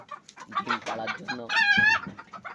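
A hen lifted off her nest where she sat to lay eggs lets out agitated clucks and squawks, a loud rising cackle in the middle, close by and alone.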